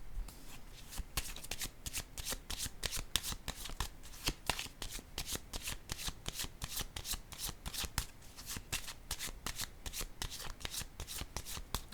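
A deck of tarot or oracle cards is shuffled steadily for a reading, a rapid run of crisp riffling slaps and flicks repeating close by for the whole stretch, with no one talking.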